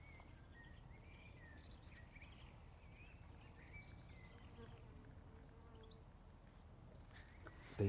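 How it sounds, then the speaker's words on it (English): Bees buzz in an allotment fruit garden in spring, a faint continuous drone with passing insect hums, while distant birds chirp and a brief knock comes at the end. "Bees are active, you can hear them."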